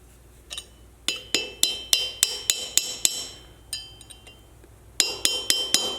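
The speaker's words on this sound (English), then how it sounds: "whenever I'm hammering in these races is I don't like to use a workbench. I like to do it on the concrete floor" Bearing races for a 1979 Dana 60 axle are hammered on a concrete floor: sharp, ringing metallic blows in quick, evenly spaced runs with a short pause between bursts, close and loud, with no talk.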